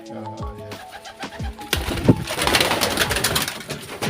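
A swan pigeon in a poultry keeper's nest cages coos in low, repeated notes, close and clear, before a louder burst of rustling and cage noise takes over.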